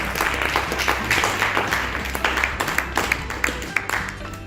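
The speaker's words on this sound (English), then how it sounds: "A huge round of applause" A book launch audience applauds the author with lively, fairly close clapping that keeps going throughout, individual hand claps standing out against the crowd.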